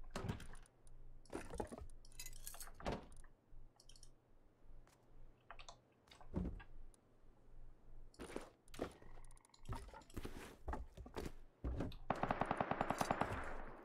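SMG gunfire in the video game Rust, heard as repeated rapid automatic bursts and single cracks spread across the clip, ending in a dense fast volley, with keyboard clicks between.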